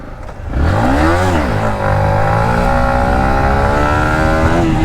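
A Yamaha MT15 motorcycle engine revs hard for a wheelie, loud and close, its pitch rising, dipping briefly, then holding at a sustained high drone.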